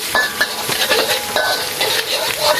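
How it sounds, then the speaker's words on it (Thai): Garlic fries in oil in a pan with a steady crackling sizzle, and a utensil scrapes and stirs through it in irregular strokes. The sound is close and fairly loud, with no talking. "เจียวกระเทียมให้พอหอม"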